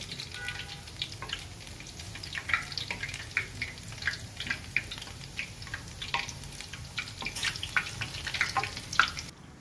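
Oil sizzles and crackles steadily in a pan as lilva (pigeon pea) bhajiya fritters half-fry, with scattered small pops and spits; quiet and close, with no talking.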